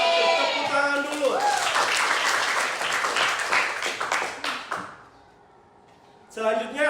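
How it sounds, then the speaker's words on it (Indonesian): Schoolchildren in a classroom burst into a few seconds of lively group clapping right after a teacher speaks. The clapping fades to quiet, and then a voice returns. "langsung tepuk tangan dulu"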